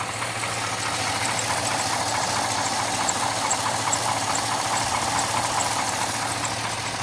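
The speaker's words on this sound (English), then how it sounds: "Engine running." A 2005 GMC Sierra pickup truck engine idles steadily with a constant low hum and even mechanical ticking, running alone without any talk, with the air conditioning belt off.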